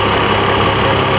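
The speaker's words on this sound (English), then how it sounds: "That's it, burn up the clutch." The engine of a Chevrolet Trailblazer running, with the clutch burning, makes a loud steady mechanical drone close by, constant throughout with no talking.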